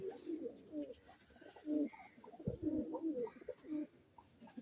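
A Madrasi pigeon coos repeatedly in low, throaty bursts, close by, with soft rustling between calls.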